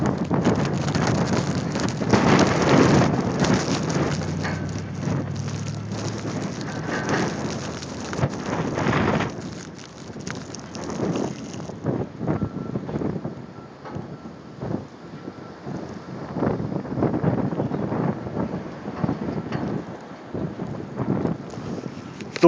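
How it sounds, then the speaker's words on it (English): Strong wind roaring and gusting through a Chicago blizzard, a loud continuous rushing with buffeting against the microphone, easing slightly midway before building again. "The wind has been howling angrily all 5 hours of the storm."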